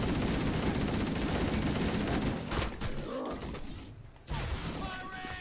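Gunfire in Halo CE, a dense rapid barrage of rifle shots and mechanical clatter filling most of the clip, briefly thinning before resuming, loud and close.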